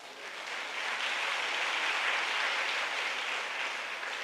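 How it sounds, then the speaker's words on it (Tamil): A church audience claps together in sustained, even applause, a dense steady wash of many hands that holds for several seconds at a moderate distance. "நல்லா கைத்தட்டுங்க."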